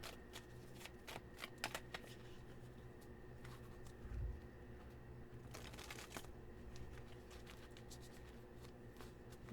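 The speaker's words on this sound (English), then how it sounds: "we still got to shuffle it" Oracle cards being shuffled for a Celtic Cross reading, a steady run of soft riffling and flicking card sounds spread through the whole stretch, close and quiet, with no talking.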